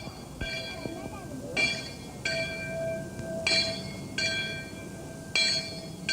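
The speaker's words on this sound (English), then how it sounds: "On Sabbath morning, the bell tolls at the church and the mission compound in Rangoon" Church bell tolling at a mission compound in Rangoon, Burma, with several evenly spaced ringing strikes that decay slowly, under a steady voice speaking over background ambience.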